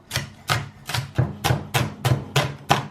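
Onions being chopped with a knife on a board, eleven sharp, evenly spaced chops in a steady quick rhythm, close and loud with nothing else heard.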